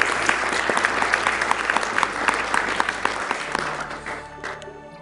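An audience at a Metroid Prime speedrun event claps for several seconds, with dense, moderately loud applause that tapers off toward the end.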